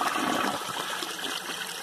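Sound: 2001 Vitromex Marathon toilet flushing a washcloth

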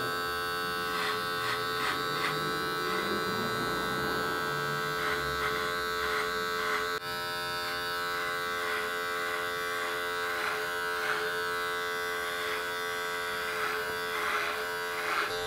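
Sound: Supreme Andis electric hair clippers running

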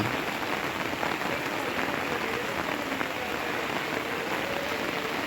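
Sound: rain falling during flooding in Sylhet

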